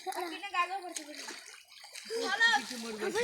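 Water sloshes and splashes during a summertime bath, with children's voices chattering and calling over the wet spatter throughout.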